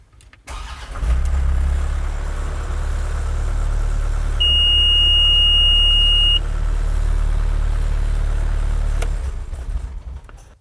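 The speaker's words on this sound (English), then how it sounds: "that is the alarm for conveyor stalling." A steady high-pitched electronic cab alarm beep, signalling a stalled conveyor, sounds for about two seconds over the loud, constant rumble of a running engine.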